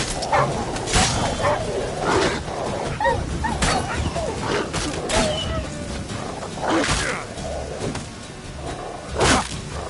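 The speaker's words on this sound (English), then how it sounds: "So these stray mutts form pack." A pack of stray dogs barks, yips and whimpers while attacking in The Witcher 3, with swishing strikes mixed in. The fight is close and busy, and a voice speaks over it.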